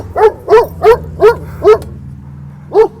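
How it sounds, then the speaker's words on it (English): A dog barks outdoors in six loud, close, evenly spaced woofs, with a short pause before the last one, over a faint background hum. "a dog."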